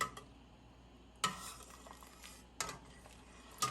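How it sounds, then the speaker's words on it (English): A spoon stirs corn cob jelly mixture in a pot, making quiet, sparse scrapes and clinks against the metal at uneven intervals over a low background hum. "So I'm going to stir this up."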